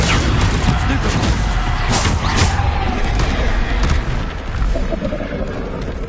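Bombarda spell explosions in Hogwarts Legacy combat: dense, loud blasts and crackling bursts fill the clip continuously, with a voice briefly heard amid the noise.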